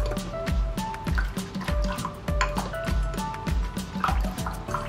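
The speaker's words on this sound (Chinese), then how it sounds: "一勺老抽酱油， 两勺水， 搅拌均匀，把砂糖搅得融化了就可以了。" A spoon stirring dark soy sauce, water and sugar together in a bowl gives a steady, rhythmic run of close liquid swishes and small clinks, repeating quickly for several seconds with no talking.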